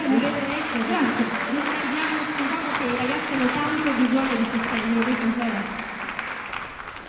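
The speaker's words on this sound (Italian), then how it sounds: "vi voglio vedere un po' più partecipi e questi applausi un po' più energici" Energetic applause from the audience at a gala concert of opera competition finalists, a continuous roar of clapping throughout, with a voice speaking over it.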